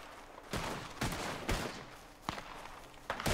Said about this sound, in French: Tu vois, ça tire